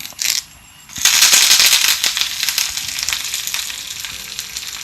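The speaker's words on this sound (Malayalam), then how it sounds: "കറിവേപ്പിലയും കൂടെ ചേർത്ത് കൊടുക്കാം" Curry leaves and dried red chilies hit hot oil for a Kerala mango curry, bursting into a loud, crackling sizzle after a brief quieter start, then settling into steady spattering frying.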